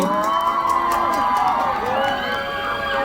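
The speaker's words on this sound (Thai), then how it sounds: "ขอเสียงปรบมือ" Crowd at a fan meeting event cheering and whooping with high excited voices, a dense, steady wall of noise that stays loud throughout.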